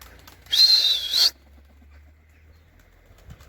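A brief whooshing, whistling rush of young homing pigeons' wings passes overhead during a training flight for under a second, then fades to near quiet.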